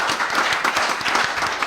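An audience at a closing event claps together in a brief burst of applause, many hands sounding at once, dense and fairly loud, with no voices over it.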